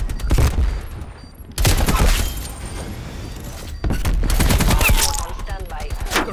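Rapid, dense gunfire in the Black Ops Cold War video game, loud automatic bursts and sustained volleys filling the whole clip with brief shifts in intensity.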